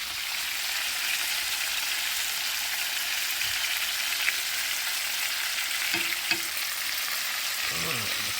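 Minced garlic sizzling in a hot pan over lowered heat, a steady, close crackling fry with faint clinks of stirring near the end and no talking.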